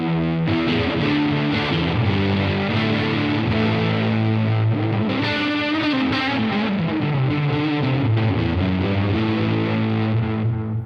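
Electric guitar through a Vemuram Myriad fuzz circuit routed to the wet amp, thick distorted chords and sustained notes with effects texture, loud and continuous with no talking.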